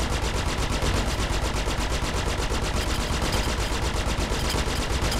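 Rapid, unbroken automatic gunfire in the space combat game Star Citizen, a fast, steady, even stream of shots that is loud and continuous from start to finish, with no voices.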